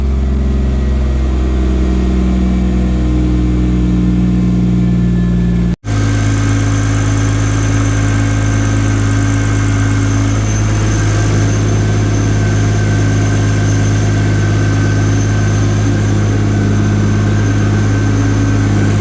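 A 2JZ engine swapped into a Mercedes W124 sedan idling steadily and loud up close, a deep, even rumble with a constant hum and one momentary dropout partway through.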